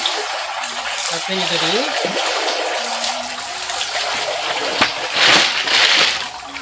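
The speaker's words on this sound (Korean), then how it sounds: "저희는 이렇게 여기다 담아서 물로 한번 샤워를 시켜줍니다" Water sprays and splashes over a batch of edible snails being rinsed after harvest, a steady broadband wash with brief louder bursts near the end, while a person talks over it.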